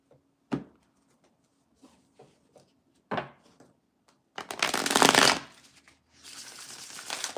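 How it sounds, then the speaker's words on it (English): Soft scattered taps and flicks of handled tarot cards, followed by two bursts of quick riffling shuffles, the second trailing off. "we're going to do 3 shuffles"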